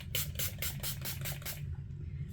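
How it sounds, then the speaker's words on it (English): Several quick hissing bursts of Milani Make It Last setting spray misted onto a face, evenly spaced close pumps followed by a brief quiet gap and one last faint spritz. "We're gonna use the Milani Make It Last and just give a little spritz to the face"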